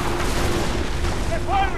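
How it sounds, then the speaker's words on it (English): Gunfire in the game Assassin's Creed 3 comes as dense, rumbling, booming volleys that fill the whole stretch, with a brief wavering tone near the end. "They're firing!"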